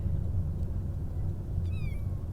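A small black-and-white kitten gives a single short, faint meow late in the clip, against a steady low background rumble with no talking.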